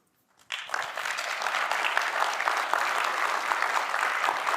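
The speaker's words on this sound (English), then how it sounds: "So give a big round of applause for Kush." Applause from a keynote audience bursts in after a brief silence and holds steady and dense, many hands clapping at once filling a large hall.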